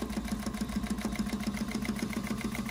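A Juki 1541s industrial walking-foot sewing machine stitching heavy linen with some canvas, a close, fast and steady mechanical thrumming with an even stitch rhythm and no talking.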